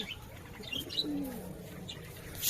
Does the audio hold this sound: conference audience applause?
no